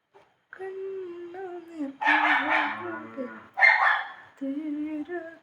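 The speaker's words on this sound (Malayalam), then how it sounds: "അവിടെ സംസാരിച്ചുകൊണ്ട് നിൽക്കുന്നുണ്ട് പട്ടി" A dog nearby makes whining, yipping vocal sounds in a run of drawn-out calls, with two louder, rougher bursts in the middle.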